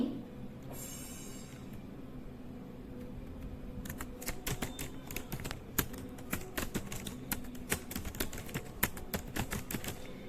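Typing on a computer keyboard while editing in Vim, a quiet start followed by a steady run of close, crisp key clicks at an uneven, fast rhythm.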